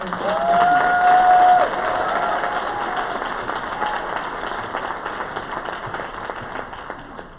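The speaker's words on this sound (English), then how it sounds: "Please give them a round of applause." Applause with some cheering from the audience at a women's legislative briefing, greeting the co-chairs. It fills the room loudly at first, then thins to lighter, scattered clapping. A tone sounds briefly near the start.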